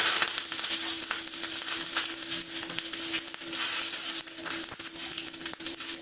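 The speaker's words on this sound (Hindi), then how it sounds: "अब तेल गरम है, अब इसमें जरा रायन डालेंगे" Mustard seeds hit hot oil and crackle, with sharp irregular pops over a continuous close sizzle lasting several seconds; no talking.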